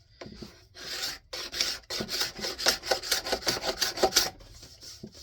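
Steel scraper drawn repeatedly along a yellow birch walking stick, a close rasping scrape in quick, even strokes with brief pauses between passes.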